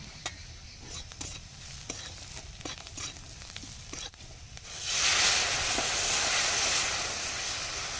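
Dal tempered in hot oil, first soft stirring clicks and scrapes, then a sudden loud sizzling burst that settles into a steady close hiss.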